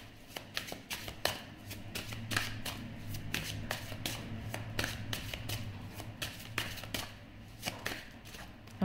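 A deck of tarot cards being shuffled by hand: a rapid series of crisp riffling slaps and flicks in quick irregular bursts, close and clear over a quiet room.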